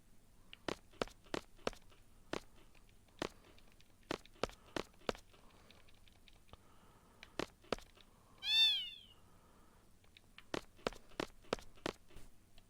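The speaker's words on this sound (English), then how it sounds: "Looks like I've just killed that cat." A cat in Final Fantasy VIII Remastered gives one clear meow midway, set among steady, crisp in-game footsteps and a quiet background hum.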